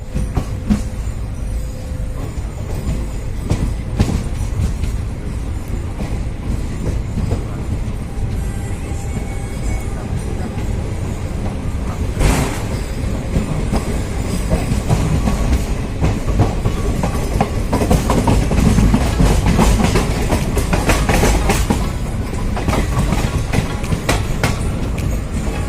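Passenger train pulling out of Dausa station on a Lucknow to Jaipur run, heard from on board as a continuous loud rumble with rhythmic clickety-clack of wheels over rail joints, steady throughout.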